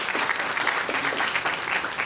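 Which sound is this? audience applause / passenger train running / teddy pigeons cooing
audience applause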